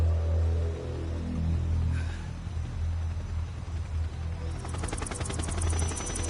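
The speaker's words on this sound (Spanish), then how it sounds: "Ahí están los helicópteros." Military helicopters in the video game Metal Gear Solid 3 drone loudly with a deep, throbbing rotor rumble, steady throughout, joined near the end by a rapid fluttering chop as the rotors come closer.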